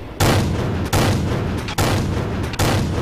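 Tank guns firing in World of Tanks, heavy booming blasts roughly every eight-tenths of a second, each leaving a dense loud roar that fills the gaps, with no voices.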